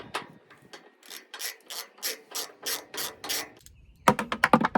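A hand ratchet backs out a 10mm bolt from the damaged fender of a Honda Element, giving a rapid run of rhythmic clicking bursts, close and clear, that ends in a quicker, louder flurry of clicks, with no talking.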